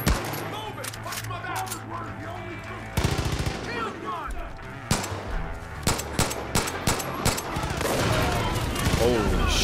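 Heavy firefights in Far Cry 5: rapid automatic bursts and sharp single gunshots crack repeatedly at close range, loud and dense, with brief lulls between volleys and players talking underneath.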